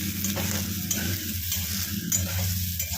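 Boiled soybean chunks frying in a kadai and sticking to the pan, a continuous near sizzle with rhythmic stirring scrapes and a couple of faint clinks.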